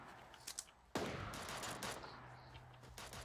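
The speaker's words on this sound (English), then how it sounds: "It's a sniper." Gunfire in the Super Animals video game: a few faint early pops, then a sharp loud shot followed by a dense rattling burst of rapid fire that fades into lingering crackles, fairly close, with no talk.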